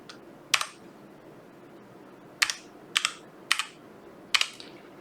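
A file name is typed on a computer keyboard, with a handful of sharp, separate key clicks close by against a faint quiet background.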